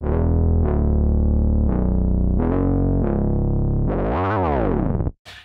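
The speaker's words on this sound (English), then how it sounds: "So I just pulled up the sound called Moogish Lead." A thick, buzzy Moog-style synth lead holds long sustained notes with small pitch changes, then bends into a sweeping wobble before cutting off abruptly.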